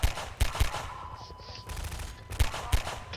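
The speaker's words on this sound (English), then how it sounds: "Is it just spray and pray nonsense with that SMG?" Submachine gun fire in Half-Life 2 comes in short, punchy bursts: a cluster of shots at the start and another near the end, with quieter game ambience in between.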